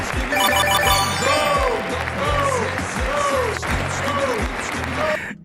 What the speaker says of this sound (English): Even Elon wants to clap for me